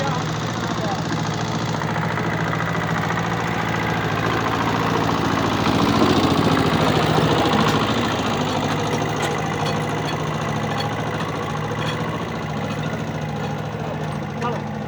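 A small tractor engine drones steadily while pulling a traditional plough, a continuous mid-to-low rumble that swells slightly in the middle and stays close and loud throughout.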